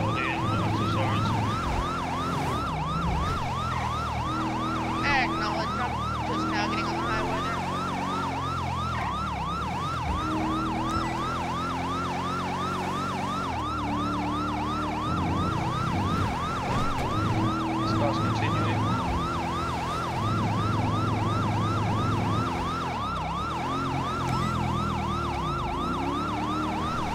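A police siren wails continuously in a rapid rising-and-falling pattern, loud and close, over steady engine and road noise during a high-speed pursuit.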